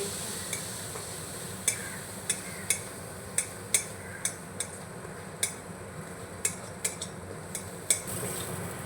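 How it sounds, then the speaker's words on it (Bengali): A spatula scrapes and taps against a pan while spice paste sautés with a little water, a dozen sharp irregular clicks over a soft steady sizzle. "মশলাটাকে আমি ভালোভাবে কষিয়ে নেব"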